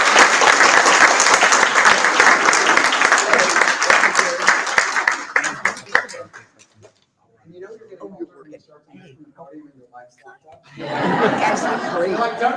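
Crowd applause at a book launch event for author Wade Rouse, loud and dense for several seconds before fading into scattered claps, chatter and chuckles, then a fresh swell of clapping at the end.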